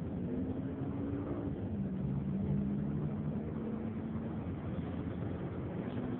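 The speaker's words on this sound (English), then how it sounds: "I'm still stuck in traffic." Road traffic heard from inside a car stuck in a jam, with a steady low engine drone and rumble running continuously and some faint passing tonal hums.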